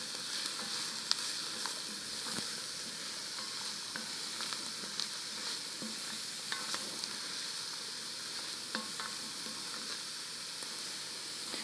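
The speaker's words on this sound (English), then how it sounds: "And again, we're going to stir that" Carrots and other vegetables for Quebec pea soup sizzle steadily in a pot, with soft scraping stirs and faint ticks over a constant frying hiss, no voices.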